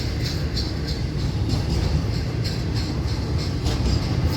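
Loaded Florida East Coast Railway freight train rolling past in St. Augustine, Florida, a steady rumble with rhythmic clickety-clack of wheels over rail joints, moderately close and continuous.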